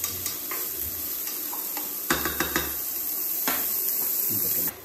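Onion and vegetables from Navarra brown in a pan, giving a soft, steady sizzle broken by a few light stirring clicks and scrapes, close by, with no talking.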